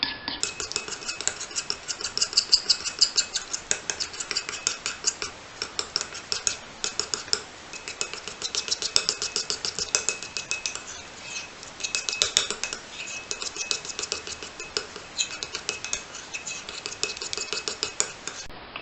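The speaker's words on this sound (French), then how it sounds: "Nous allons remuer avec une petite cuillère qui nous servira pour manger après." A small spoon stirring mug cake batter in a mug, giving rapid, continuous rhythmic clinking and scraping against the sides, close and fairly loud, with no voices.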